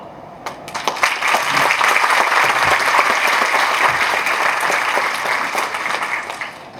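Sustained applause from an audience, many hands clapping densely and loudly for several seconds without pause.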